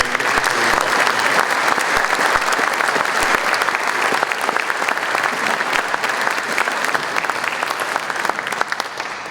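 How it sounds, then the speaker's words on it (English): An audience at a 2024 Hall of Fame induction ceremony gives a loud, sustained round of clapping, dense and steady throughout before slowly tapering. "Please give them a big round of applause for the work they do."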